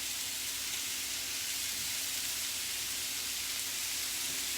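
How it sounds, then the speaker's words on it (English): Ground meat for taco lasagna browning and sizzling in a pan, a steady, even hiss like fine static that runs unbroken and fairly quiet throughout. "Maybe y'all can hear that sizzling. We're going to be just browning this up."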